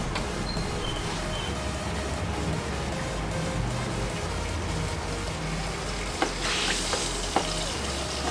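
Desi ghee heats in a hot kadhai, giving a steady, close sizzling hiss throughout with a few brief crackles and pops near the end; no one speaks.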